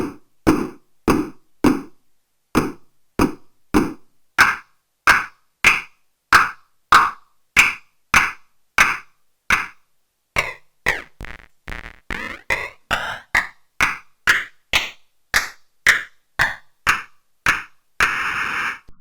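Clap voice of a Soma Pulsar-23 analog drum synthesizer with bandpass-filtered noise, firing as a steady stream of sharp, dry claps in a regular rhythm, with some variations in tone and a brief noisy burst near the end.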